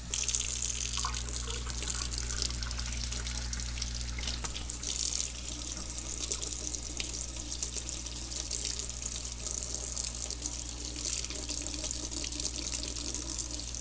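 Tap water pours steadily into a sink while an artificially toned Morgan silver dollar is rinsed, a constant close splashing rush with small drips and no talking.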